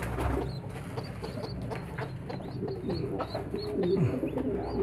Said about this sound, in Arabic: شوف الزغاليل جعانة يا جماعة ازاي محتاجة ان انا اكلها